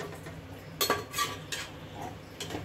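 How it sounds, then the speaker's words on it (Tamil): A spoon scrapes and knocks against a pot while mutton curry is stirred for biryani, giving a few separate clinks and scrapes over a low background hum, fairly quiet and close. "கறி ஒரு இந்த அளவுக்கு நல்லா கிளறி விட்டுக்கோங்க"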